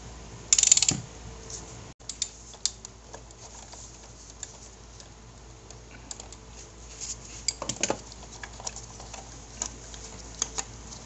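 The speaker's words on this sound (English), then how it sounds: "I use this right here, T30, to remove this bolt right here that's holding the coils and" Ratchet fitted with a T30 bit working a bolt on the ignition coil bracket of a 2016 Mercedes GLC300 engine, giving scattered close clicks and metallic taps with a louder clatter near the start, no talk.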